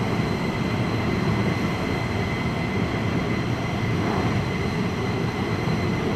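F-15 fighter jets taxiing at RAF Lakenheath make a dense, steady roar of broad engine noise with a whining tone on top, loud and unbroken, with no voices.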